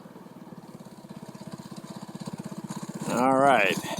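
Homemade Doodlebug minibike engine chugging in a rapid even putter, close by, then revving up sharply near the end; a voice talks over it.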